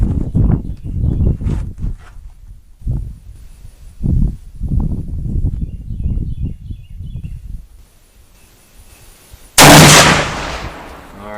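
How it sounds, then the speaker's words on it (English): A single loud, sharp Krag–Jørgensen rifle shot rings out at an outdoor shooting range near the end, following several seconds of quieter, low-pitched sounds. "We're going to let Dad take a few shots."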